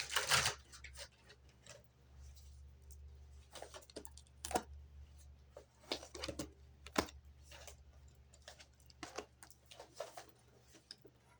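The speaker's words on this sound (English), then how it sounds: "One more shuffle." A Pulp Tarot deck is shuffled by hand, giving quiet, crisp riffling and papery flicks: a sharp burst at the start, then scattered bursts and ticks, close and soft, with no talking.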